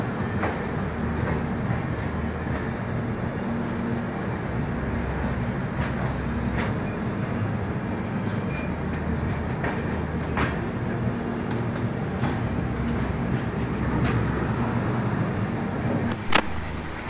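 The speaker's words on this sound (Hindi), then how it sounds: "ये ट्रेन हमारे Udaipur new Jalpaiguri express train platform से निकल रही है" Udaipur–New Jalpaiguri Express pulling out of the platform at Gorakhpur Junction, a steady, continuous rumble of rolling wagons with faint rhythmic clatter of wheels over rail joints throughout, no voices.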